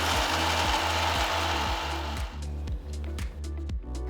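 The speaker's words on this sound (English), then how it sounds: "Grind these ingredients to a nice fine powder." An electric grinder runs loudly and steadily, grinding roasted gram and soaked almonds to a fine powder, then the motor note drops into a rhythmic, pulsing whir as the mix breaks down.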